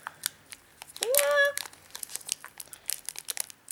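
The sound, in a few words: crinkling plastic booster pack wrapper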